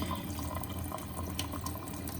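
Water runs from the tap under a kitchen sink during a leak repair, a steady, faint splashing rush with no voices.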